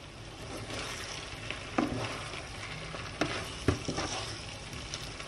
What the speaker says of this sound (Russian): Фаршу добавляем макароны и еще раз все перемешиваем.